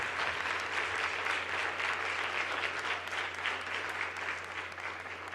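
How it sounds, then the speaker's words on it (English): A large audience at an evening student recognition event in St. Lucie County, Florida, applauds parents and friends with steady, dense clapping that holds for several seconds without talk. "turn to your parents and friends, and give them a great round of applause"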